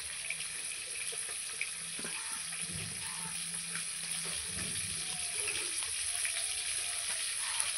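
Tilapia pieces fry in hot oil in a kadai, giving a faint, steady sizzling hiss with occasional soft crackles and light clinks in the background.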